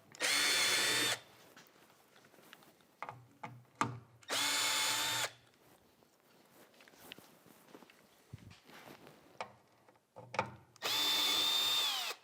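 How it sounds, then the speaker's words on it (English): Power drill fitted with a 5/16 socket backs screws out of a MAG-200 metal dust collector housing, in three loud, whirring bursts of about a second each, separated by handling clatter and footsteps. "But first we have to take out 4 screws."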